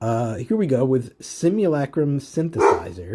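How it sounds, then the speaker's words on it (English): A household dog yaps somewhere behind someone talking continuously up close, with a short burst of barking late in the moment. "Sorry about my dog in the background."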